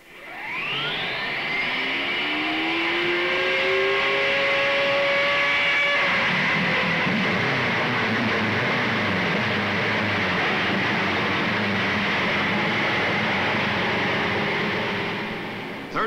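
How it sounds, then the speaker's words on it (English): Vintage 1955 Indianapolis 500 race car engines fire up and rev in a loud rising whine, the field pulling away together into a sustained roaring drone that holds steady as the cars move off the line. "Then, gentlemen, start your engines."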